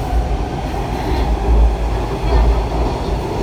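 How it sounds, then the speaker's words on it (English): A Washington DC Metro train built by Kawasaki runs along the line, giving a steady, loud low rumble of wheels and motors with faint rail clatter throughout. "this train is going to Shady Grove"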